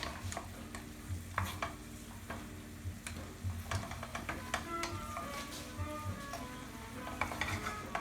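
Onions and pancetta sizzle in a pan as a utensil stirs and scrapes them in irregular bursts, fairly quiet and close, with no voices.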